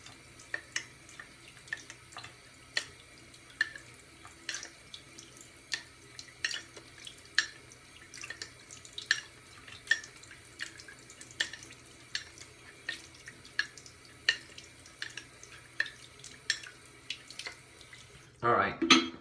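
A knife is stroked again and again across a wet Naniwa 8k whetstone, giving a steady run of soft, scraping swipes at an even rhythm, faint and close, ending in a louder burst of sound.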